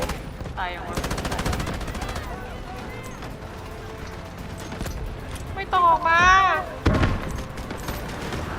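Continuous gunfire in the video game Delta Force during a sector capture with artillery support, shots crackling in rapid bursts without pause while players talk excitedly over the firing.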